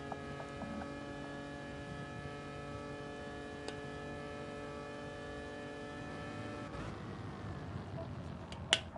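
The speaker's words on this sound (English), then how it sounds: "just listening to the sound of Lance's little engine here as they're going up towards turn 1" Race car engine in the video game Gran Turismo Sport, a steady droning whine held at an even pitch while heading toward turn 1, with a brief rising note and a faint click near the end.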